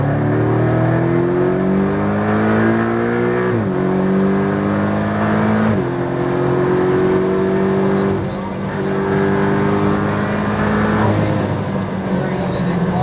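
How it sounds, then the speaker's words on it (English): A car accelerates at full throttle down a track straight, its engine droning loud and close and climbing in pitch, with several quick upshifts breaking the rising note. A voice talks over it throughout. "Now look down that straight, add that speed, and full throttle."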